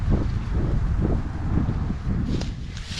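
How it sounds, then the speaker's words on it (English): Steady wind buffeting a hunting tree stand in the woods, a loud rushing roar with gusty low rumbles and some rustle, close and constant across the whole stretch. "This is always a windy stand. You can probably hear the wind going."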